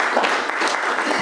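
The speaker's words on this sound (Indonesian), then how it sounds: "kita kasih aplaus untuk semuanya." Audience applause at an Indonesian academic training session on religious moderation, a dense, steady clapping that fills the whole moment at close range with no speech over it.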